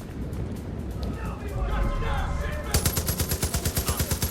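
Gunfire in Far Cry 5 during an outpost fight: a rapid, evenly spaced burst of automatic shots in the last second and a half, loud and close, after a stretch of rumbling game noise.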